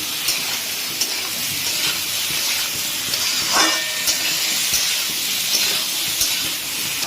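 Red amaranth greens fry with turmeric and salt in a pan, a loud steady sizzle and hiss with occasional stirring scrapes and small pops, close and continuous.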